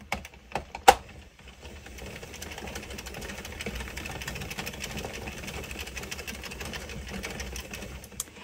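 A knitting machine's carriage runs across a row of waste yarn, giving a steady, fairly quiet mechanical clatter and whir after a few sharp clicks at the start.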